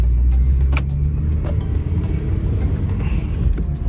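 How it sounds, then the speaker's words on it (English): A 2008 Honda Civic Mugen Si heard from the cabin as it accelerates, its engine rumbling loudly and continuously with a brief dip as the gears change. "I just shifted to second, super smooth, shifted to third."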